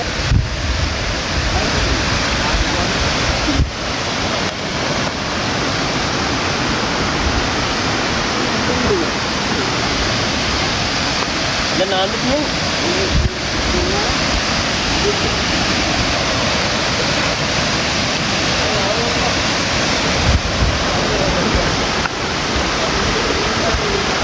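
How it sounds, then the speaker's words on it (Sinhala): A stream near a river rushes loudly and constantly, a dense roar of flowing water close to the microphone, with a brief voice speaking over it. "අපි දොළගාවට ආවා."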